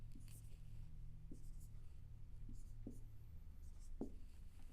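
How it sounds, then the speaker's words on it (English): Pen scratching on paper as numbers are written out by hand, soft and close, in short scattered strokes over a steady low hum with faint background murmur. "You just write the numbers down."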